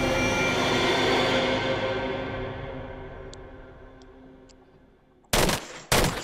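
Gunfire in the VR video game Arizona Sunshine: a fading rumble gives way to near silence, then two sharp, loud shots ring out close together.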